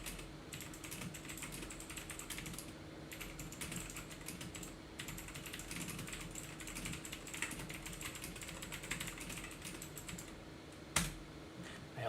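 Steady clicking of keys on a computer keyboard as a prompt is typed, a continuous run of soft taps at close range with a low hum underneath, one sharper knock near the end.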